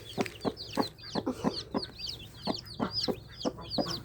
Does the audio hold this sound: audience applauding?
no